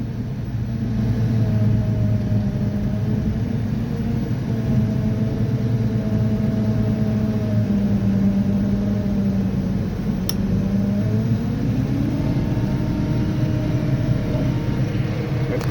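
A railroad maintenance tamping machine's engine idles roughly in freezing cold, a steady low rumble with wavering tones that sag and shift as the motor struggles and threatens to die out, with no talk.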